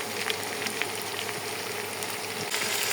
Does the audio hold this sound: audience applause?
no